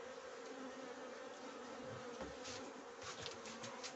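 Honeybees buzzing around a 48-frame horizontal hive, a dense steady drone of many insects nearby, with faint soft knocks and rustles in the background.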